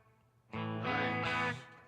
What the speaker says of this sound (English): it is a stereo reverb